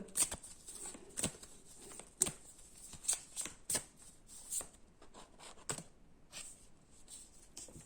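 Tarot cards shuffled and drawn by hand, a close, quiet run of crisp riffles and flicks in irregular bursts with soft slides between them, no voice.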